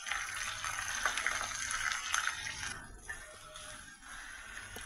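Onion paste hits hot oil with whole cinnamon, cardamom, black pepper, cloves and bay leaf, giving a quiet, steady sizzle with soft bubbling and occasional crackles, heard alone.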